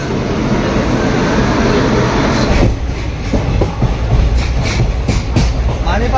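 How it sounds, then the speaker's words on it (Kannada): A train rumbles loudly with steady low-end noise, then rhythmic clacking of wheels emerges as it begins moving, with faint voices nearby. "ಈಗ ನಮ್ದು ಟ್ರೈನ್ ಹೊಂಟತ್ರಿ"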